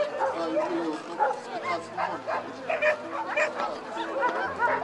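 Yakutian Laika dogs at a dog show bark and yip repeatedly in an uneven rhythm, fairly close, under someone talking steadily in Russian.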